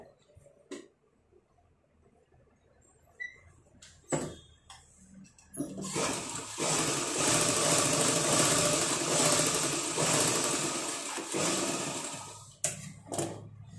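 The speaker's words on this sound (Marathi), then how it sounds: "आता आपण याला डबल स्टिच करून घेऊया।" A sewing machine double stitches a tuck on a blouse: a few scattered taps and clicks, then a steady close whirring run lasting several seconds before it stops.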